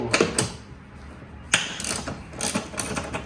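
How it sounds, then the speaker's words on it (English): A ratchet wrench clicks in short, close bursts while turning bolts on a motorcycle saddlebag, with quick pawl ticks separated by brief pauses. "now it's ratchet time. More leverage."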